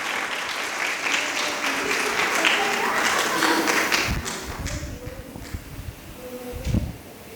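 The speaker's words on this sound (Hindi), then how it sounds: "तालियां बजाकर" Audience applause and tapping at a Navratri festival honour ceremony, greeting a dance performance at the goddess's court; a dense, steady round of clapping that thins out midway, with scattered claps and faint voices toward the end.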